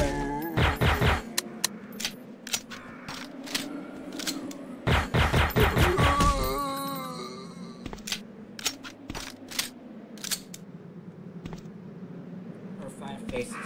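Gunfire in Resident Evil 2 played in Garry's Mod: two loud rapid bursts of shots near the start and around the middle, followed by scattered single sharp reports, with game noise and a voice talking underneath.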